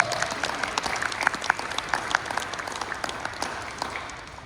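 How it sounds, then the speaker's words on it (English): Sustained applause from a conference keynote audience, many hands clapping densely and evenly, fading slightly toward the end. "if you would please give a round of applause"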